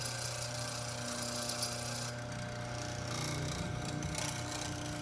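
A quiet benchtop mortiser runs steadily as it plunges to cut a mortise in wood, a continuous close mechanical drone with a low hum and a slight change in tone partway through.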